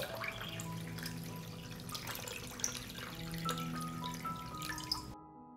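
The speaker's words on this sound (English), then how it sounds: "I pour water into the pot up to the height of the lid." Water poured into a pot holding glass jars with new lids, filling up to lid height: a steady, close trickling and splashing stream with occasional drips that runs for several seconds before stopping.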